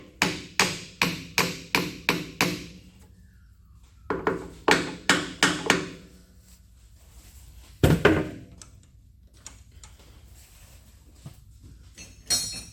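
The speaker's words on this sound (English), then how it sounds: "Find my hammer. We'll just tap this around till it's close." Hammer blows tap a dead center into place on a lathe during a KASTO EBS 400 power hacksaw rebuild, with sharp metallic knocks in quick bursts of about seven strikes, then another group, followed by scattered lighter clinks and taps.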